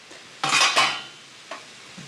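Dry bucatini pasta dropped into a pot of salted boiling water in a kitchen makes a sharp, close clattering rush that lasts about half a second, followed by a smaller knock a moment later.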